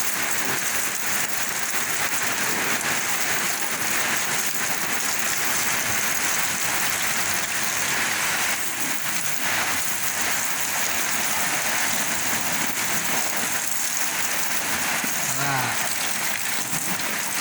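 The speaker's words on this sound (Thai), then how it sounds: "อากาศอย่างนี้นะครับฝนตกแบบนี้นะ" Steady rain falls hard and close while a Toyota Vigo Champ 4x4 pickup is washed outdoors. The broad hiss continues without a break, and someone talks faintly underneath.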